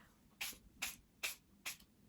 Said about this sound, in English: I'm gonna go ahead and just spritz my face